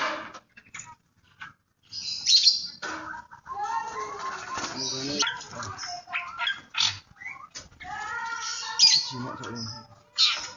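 A starling sings a varied, chattering song of whistles, squawks and rasping notes in quick bursts, close and loud, with some voices mixed in.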